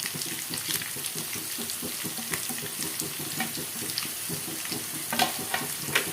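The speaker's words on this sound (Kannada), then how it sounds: "ಇದನ್ನು ಚೆನ್ನಾಗಿ ಫ್ರೈ ಮಾಡ್ಕೊಳ್ಳೋಣ" Ingredients for mosappu sambar frying in a pan, with a continuous soft sizzle, irregular stirring clinks and scrapes, and a few sharper pops near the end.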